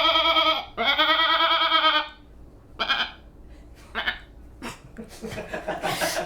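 A man does a goat impression, a voice imitating goat bleats: two long, loud wavering bleats up close, followed by shorter broken bleat-like yelps and breathy sounds.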